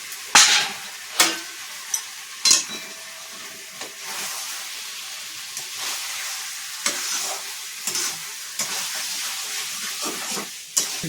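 Chunks of goat meat are tipped into a hot pot and fry in oil for a Sunday home-cooked curry, with a steady sizzle and hiss broken by sharp clatters and stirring scrapes about every second or two, alone and close.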